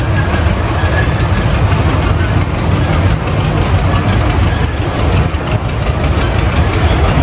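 Steady low rumble of a 1917 Case 36 Road Rover tractor engine moving in an Iowa threshers reunion parade, a continuous, fairly loud drone mixed with outdoor crowd ambience.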